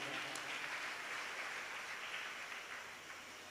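An audience at a devotional Shiv Puran discourse welcomes a guest on stage with sustained applause, a soft, even, rain-like wash of many hands clapping that slowly fades.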